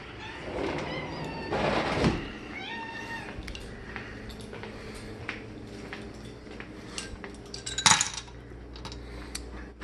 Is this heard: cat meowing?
yes